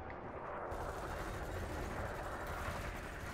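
Multi-cannon in the space game Elite fires at a target as a dense, continuous rattling barrage, loud and unbroken for a few seconds with no pauses.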